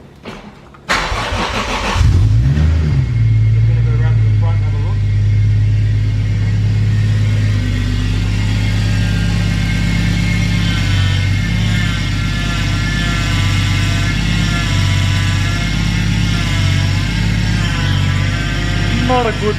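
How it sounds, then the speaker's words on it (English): A car starts up and settles into a loud, close idle, with a whining power steering pump droning over the engine hum throughout. "I'll start the car up and show you that that noise that comes from the power steering pump"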